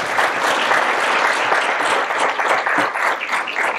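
An audience at a town candidates forum applauds, a dense, loud burst of steady clapping that fills the room from start to finish.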